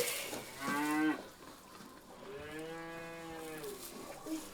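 Cattle being given feed moo twice, a short nasal call followed after a pause by a longer, steadier low bellow, clear and fairly close with no talk over them.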